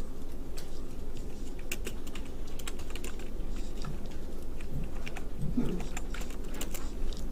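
Fingers typing on a computer keyboard while entering drafting commands for a milling drawing, a steady run of quick close clicks and key taps over low background hum.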